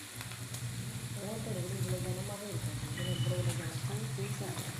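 Rice murukku dough frying in hot oil gives a steady bubbling sizzle that runs throughout, close and moderately loud, while a person talks over it.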